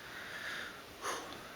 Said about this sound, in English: If I sniff, it's to get air into my brain.